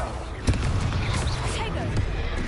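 A Confringo fire spell blast in the Hogwarts Legacy video game, fought against trolls: a sudden burst amid dense, continuous combat noise and rumbling, with voices over the fighting.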